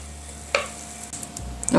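Waffle batter cooking in a covered waffle maker: a faint, steady sizzle with a few small ticks and clicks, close and quiet.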